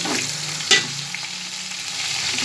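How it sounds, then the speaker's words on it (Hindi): A paste of turmeric, garlic and ginger fries in oil for vegetable pulao, giving a steady soft sizzle with one brief stirring scrape near the start and no talking. "थोड़ा सा इसको पका कर, ताकि जो हल्दी और लहसुन अदरक का कच्चापन ये ख़त्म हो जाए इसके अंदर"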